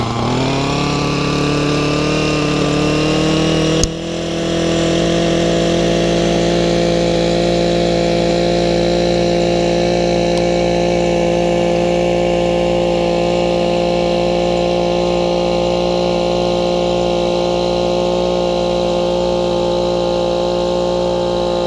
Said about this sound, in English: We're gonna flip the trimmer up and do a little edging along the driveway here.